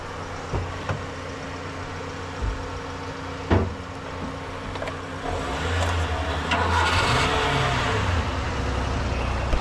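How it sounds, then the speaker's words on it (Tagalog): A car engine revs up as the accelerator is pressed during a riverside camping trip, rising from a low idle into a louder, sustained roar in the second half, with scattered knocks and rubbing sounds earlier. "Tapakan mo yung silinyador."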